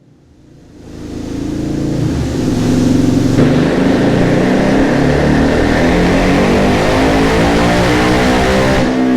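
A Yamaha Raptor 700 ATV engine on a dyno rises from a low idle into a loud, sustained high-rpm roar that holds steady to the end, close and unbroken by talk.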